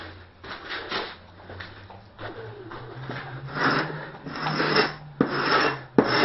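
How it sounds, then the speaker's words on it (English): A scraper works over the wood of a window sash on a bench, giving repeated rasping strokes, close and uneven, some strokes louder and longer than others. "I should be scraping in the other direction."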